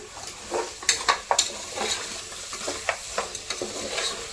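Goat leg curry being stirred in a pot, with a spoon scraping and knocking against the metal in uneven strokes over a low simmering sizzle, heard close and alone.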